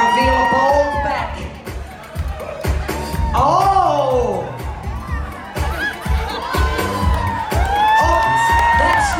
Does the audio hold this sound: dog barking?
no